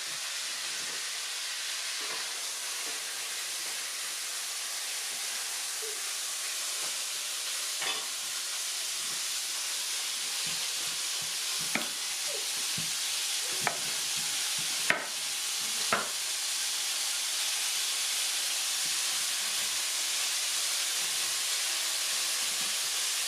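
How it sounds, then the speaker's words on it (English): Beef stew stirred in a pot on the stove, a steady sizzling hiss broken by a few sharp scrapes and clinks of the spoon against the pot at intervals, with no talking. "Just give this a little stir."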